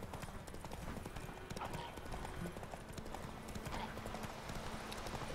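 Horse hooves clip-clop at a steady trot in The Witcher 3 video game, a continuous moderately quiet rhythm of hoofbeats with a brief whinny, as a voice talks over it.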